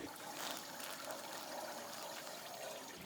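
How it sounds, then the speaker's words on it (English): Water from a hose sprays steadily onto the seam of a backpack outdoors, a continuous broad hissing wash with no speech. "we'll just hose down that seam"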